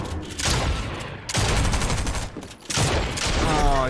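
Rapid bursts of gunfire in a video game, loud and close, come in three dense volleys separated by brief pauses.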